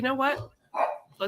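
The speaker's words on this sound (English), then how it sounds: "I apologize if you can hear my dogs in the background." Pet dogs barking indoors in a home: a couple of short, sharp barks with a brief gap between them, fairly close and moderately loud, with no talking over them.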